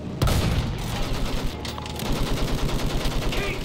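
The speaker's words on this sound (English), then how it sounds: "Use the MG, sweep the ground!" Sweeping machine gun fire in Battlefield 1 on a World War I battlefield: an opening blast gives way to a sustained, rapid, evenly spaced stream of loud, close shots.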